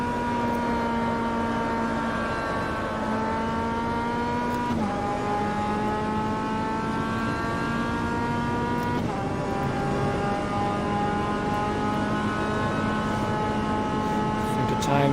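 A race car in Automobilista VR, an MCR Sports 2000 at Ibarra, holds a steady high engine drone under load, with pitch dips and climbs as it brakes and accelerates, loud and continuous throughout.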